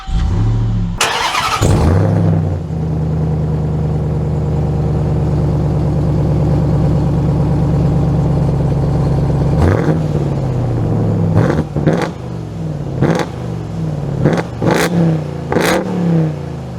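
A 2023 Ram TRX pickup starts with a sharp crank and catch, settles into a loud, steady idle, then gives a series of quick, punchy throttle revs near the end, with no talk.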